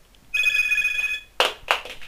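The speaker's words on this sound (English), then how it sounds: "now the phone is ringing." Telephone ringing in Sonic Adventure DX, a steady electronic ring tone lasting about a second, followed by two short, sharp bursts of game sound, loud and close with no talk.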